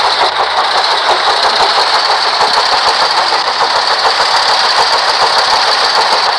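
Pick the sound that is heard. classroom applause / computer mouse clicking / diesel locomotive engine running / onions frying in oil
diesel locomotive engine running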